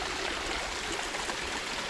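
Water running through a small stream channel beside a house and roadside, a steady rushing gurgle heard close and continuous without speech.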